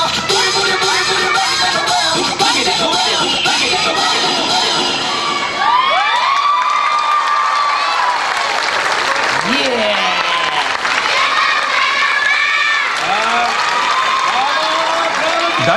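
A large crowd cheers and applauds after a girls' dance team finishes performing at a kids' competition. Loud whoops and children's high shouts rise over steady clapping throughout.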